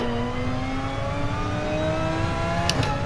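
Race car engine in GT Sport at a soggy Spa circuit, a steady droning tone with harmonics slowly climbing as the car pulls on throttle, continuous and fairly loud, with a brief higher whine near the end.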